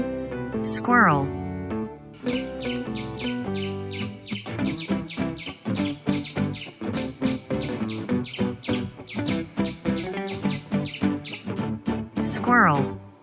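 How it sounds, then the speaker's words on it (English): A squirrel chirps in a fast, high, steady run of repeated chirps that lasts most of the clip, set against cheerful background music. "Squirrel."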